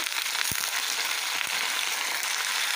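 Flat beans and eggplant fry in a pan with turmeric. A steady, even sizzle hisses throughout, broken by a couple of soft knocks against the pan.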